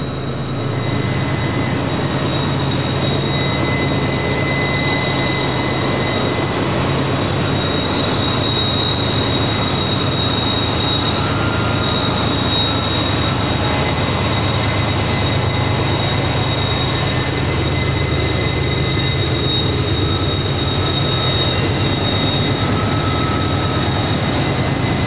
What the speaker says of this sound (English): a pair of GE locomotives slowly pull their stack train to the center of the curve